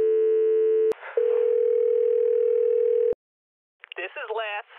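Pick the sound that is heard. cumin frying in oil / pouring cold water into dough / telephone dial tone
telephone dial tone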